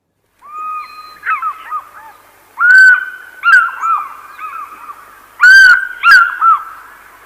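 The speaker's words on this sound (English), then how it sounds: "Here's a fish eagle, and here's his call." A recorded African fish eagle call plays loudly: repeated ringing, yelping cries in several bursts with short gaps, clear and close with no talking over it.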